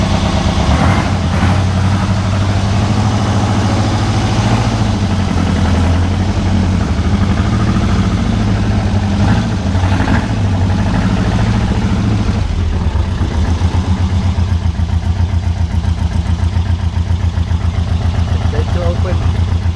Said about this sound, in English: Quite a loud exhaust.